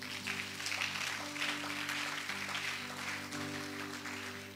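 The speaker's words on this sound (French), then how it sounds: "Acclame pour Jésus." A congregation at a French-language church service claps and cheers for Jesus, a dense, steady roar of applause running the whole time over sustained musical tones underneath.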